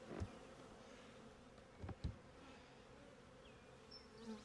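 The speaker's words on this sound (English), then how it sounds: "So the bees are starting to arrive." Honeybees arriving at a newly installed hive outdoors, a soft steady buzzing hum from many bees with a few brief louder passes nearby, faint overall and with no talk.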